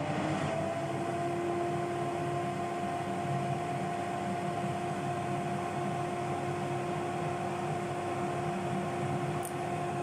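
A Tefal Easy Fry & Grill EY505827 air fryer runs while cooking frozen food, giving off a steady fan whir with a constant tonal hum, even and unbroken at moderate loudness, close by, with no talk.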